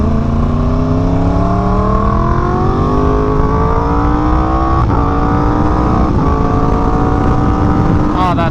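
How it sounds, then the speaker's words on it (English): Yamaha R1M sport motorcycle with a cheaper aftermarket exhaust revs up continuously, its pitch climbing steadily through the gears, loud and close with a brief throttle blip near the end. "it's a cheaper exhaust for an R1M, but can't beat the looks and the sound of it on this bike"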